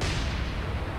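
Warship guns firing in the naval video game War On Sea (Tokyo mod): a dense, loud roar of cannon blasts merging into one continuous rumbling burst.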